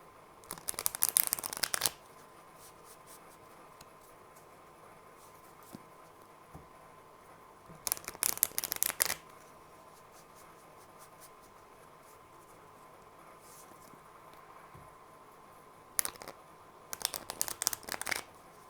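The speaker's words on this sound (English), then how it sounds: "I will go ahead and shuffle up on this deck" Deck of cards shuffled by hand in three separate bursts, each a second or two of close, crisp riffling, with quiet stretches in between.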